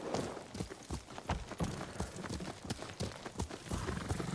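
Horse hooves clip-clop at a steady trotting rhythm in the Ghost of Tsushima video game, close and continuous, with no talk over them.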